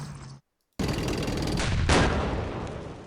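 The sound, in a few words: anti-tank rifle fire in video game Campaign Series Rising Sun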